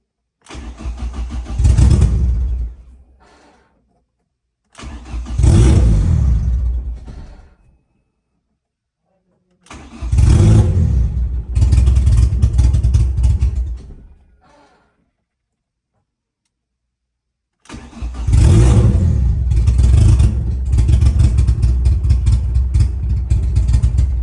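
A turbocharged Ford SVT Focus engine cranks and catches four times. Each is a short burst of starting and revving, separated by silent pauses, and the last run is longer and sustained. The sound is loud and close.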